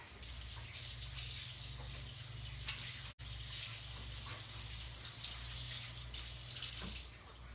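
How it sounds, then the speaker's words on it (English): A kitchen tap runs steadily while hands are rinsed during meal prep, a continuous close splashing hiss with a brief cut midway and no speech. "All right, let me rinse my hands."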